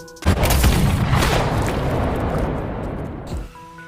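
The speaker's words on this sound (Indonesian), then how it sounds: "Yanada di sini mencoba menembak Aoi, tapi ternyata malah mengenai Motoyasu yang berusaha menyelamatkan Aoi." A gunshot in an anime war scene lands as one loud, close booming blast, then a long rumbling decay that fades out over about three seconds.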